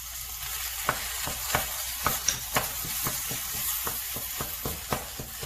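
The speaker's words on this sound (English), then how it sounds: "Okay, now we're going to add the shrimp paste." Shrimp paste is stirred into a spicy pepper paste for jeow padek, with repeated scraping and clicking strokes of a utensil against the pan over a soft steady sizzle, close and moderately loud.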